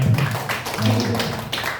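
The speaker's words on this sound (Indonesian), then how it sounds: "tepuk tangan untuk Linda" Participants at an Indonesian dissemination session applaud a colleague named Linda, a brisk patter of clapping from a small group, close and steady, with a voice talking over the start.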